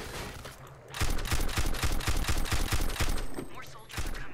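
Rapid bursts of gunfire in Half-Life 2 during a prison escape, a loud volley of sharp shots in quick irregular succession after a brief lull, with a voice heard briefly.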